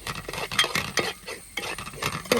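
Onions, tomatoes and curry leaves being stirred in a pan for a pappadam curry, with loud, close, uneven scraping and clinking strokes of a spoon against the metal and no speech.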